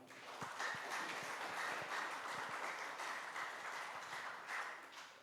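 A crowd at a Christmas gathering applauding steadily, dense clapping sustained for several seconds at moderate distance, no voices on top.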